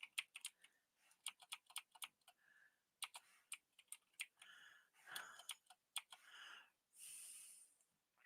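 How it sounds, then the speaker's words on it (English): Letters are typed on a keyboard in quick irregular bursts of sharp, close key clicks separated by short pauses, in a quiet room with faint breathing. "So this is when I just start typing in letters"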